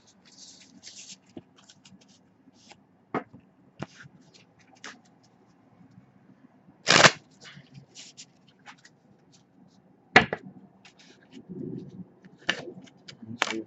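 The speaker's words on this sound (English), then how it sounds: "I'm just going to pull a couple of cards and see what they have for us" Tarot cards being shuffled and handled on a table in short, separated bursts of riffling and sliding, with soft taps and scratches between them and a few quiet pauses.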